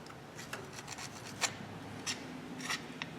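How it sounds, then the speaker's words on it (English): By hand, someone rubs silicone-like lubricant off front brake parts on a Dodge truck. Faint, close scraping comes in several short separate strokes over quiet background noise. "So we'll just want to rub some of that off."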